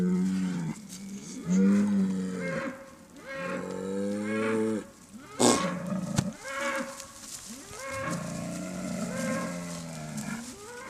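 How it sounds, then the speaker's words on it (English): A 13-month-old bull and nearby cattle on a pasture moo in long, drawn-out calls, several overlapping bellows rising and falling one after another, loud and close with no speech. "It's just a smaller bull. He's just 13 months old. He's just trying to show off."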